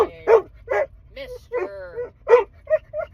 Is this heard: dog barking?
yes